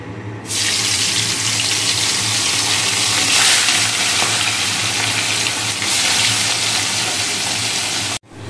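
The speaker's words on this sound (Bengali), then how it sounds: "আর এই যে খুব ছোট্ট ছোট্ট মাছ এনেছি, বাটা মাছ। তো এইগুলো ভেজে নেব একে একে" Small bata fish frying in hot oil in a pan: a loud, steady broadband hiss starts suddenly, holds without a break for about eight seconds, then cuts off abruptly.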